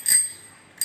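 Loud bell on a BSA Cybot bicycle rings twice, a bright metallic ding at the start and another at the end, with a short quiet gap between.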